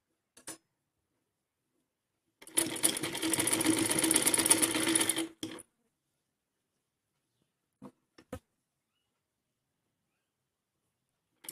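A sewing machine runs in one steady burst of about three seconds, stitching a collar onto a fancy fabric top, with a few faint taps and clicks before and after in an otherwise quiet room.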